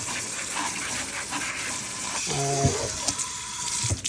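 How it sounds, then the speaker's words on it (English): Aluminum cans are rinsed under a running kitchen tap: a steady, close wash of water with a brief clank and hollow ring partway through. "So you want to rinse your cans out."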